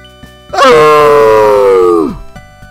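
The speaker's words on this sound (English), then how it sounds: "That was a scream, yawn." A single drawn-out vocal cry blending a scream and a yawn, starting with a sharp rise and holding a steady, strained harmonic tone for about a second and a half before sliding down and trailing off, loud and close with no other talk.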